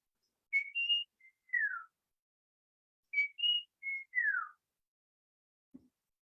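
Whistled mimicry of the brown-cheeked fulvetta, a tree-dwelling bird of the Konkan: two crisp, near phrases of bright short notes ending in downward slurs, one after the other, followed by a faint low thump, with no voices.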